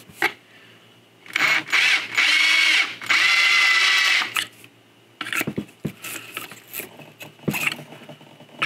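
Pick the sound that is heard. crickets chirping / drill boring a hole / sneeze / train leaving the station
drill boring a hole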